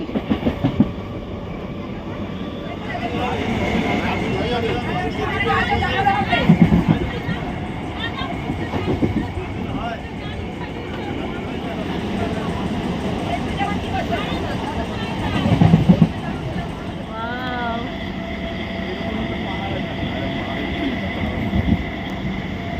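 A train at Kanchrapara railway station gives a steady, fairly loud rumble with rhythmic wheel clatter and a couple of heavier surges, while voices murmur in the background.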